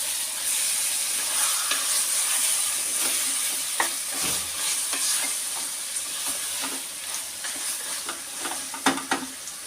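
Marinated chicken for biryani is stirred in a pressure cooker, with steady frying hiss and scattered scraping clicks from the spoon, a few sharper knocks near the end; no voices.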